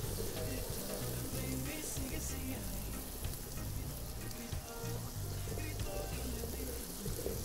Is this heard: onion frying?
yes